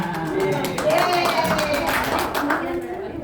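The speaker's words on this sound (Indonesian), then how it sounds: "Tepuk tangan." A classroom group claps during a religious education lesson, a busy patter of hands mixed with overlapping voices and chatter, moderately close.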